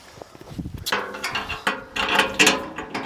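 Metal bolts being started by hand on the sideboards of a walk-behind tractor trailer under assembly, giving a run of close, uneven ratcheting and clanking metallic clicks with no talk.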